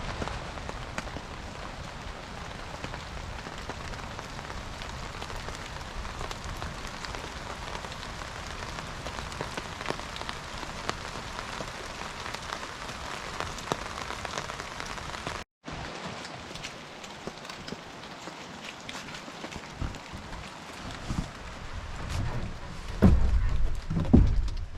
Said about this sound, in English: it rained all night.